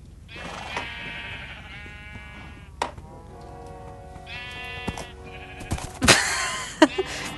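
Sheep bleat repeatedly in Minecraft: several separate, fairly loud blocky bleats spread across the clip, with a few short clicks and game effects between them and no talking.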